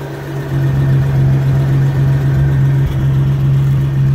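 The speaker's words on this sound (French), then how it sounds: "Voilà, le moteur est en marche, hein, je vous le garantis." A 1948 DeSoto convertible's engine idling quietly, a steady low hum with an even, unchanging tone throughout, close to the car and free of voices.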